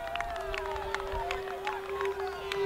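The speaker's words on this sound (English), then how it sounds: "Loud cheer that he got the ball onto the target" Cheering from spectators at a boys' under-15 cricket match between Trinidad and Tobago and Guyana, a broad roar of voices with a steady tone running through it, lasting the whole short moment.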